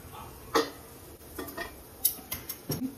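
A knife presses into soft steamed stuffed eggplants in a pot, giving a few light clinks and taps of metal against the pot, scattered and close, with no talk.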